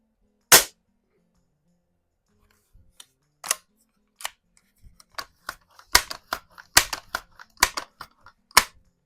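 Crosman Vapor Max air rifle shots and sharp mechanical clicks: one loud crack near the start, then a string of quicker snaps and clacks of varying strength, close by, with no talk.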